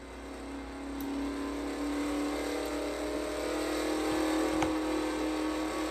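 A car engine drones in a driving video game, a steady close whirring hum that rises gently as the vehicle keeps speed, with no talking over it.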